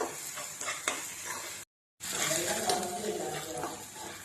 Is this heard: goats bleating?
no